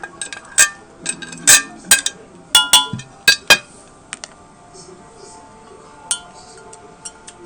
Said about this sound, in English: You're going to use some type of glass measuring cup, and you're going to dump that over